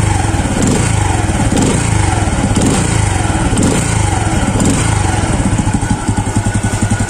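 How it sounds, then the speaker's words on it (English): A KTNS Rhino 125 motorcycle with its stock exhaust runs steadily, a loud, close, rough drone with a rapid pulsing beat that grows choppier near the end, with no voices. "the second thing that I don't like about my Rhino is the exhaust"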